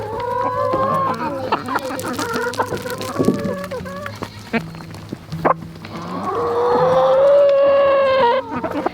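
Several chickens cluck and squawk close by, with a drawn-out crow-like call rising near the end, busy and fairly loud.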